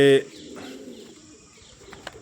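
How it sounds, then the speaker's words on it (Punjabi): Soft, muffled pigeon cooing at Bir Talab zoo in Bathinda after a brief loud burst at the start, the low coos faint against a quiet background. "ਇਹ ਜ਼ਿਆਦਾਤਰ ਮੇਰੇ ਸਾਹਮਣੇ ਲੱਕੇ ਕਬੂਤਰ ਆ"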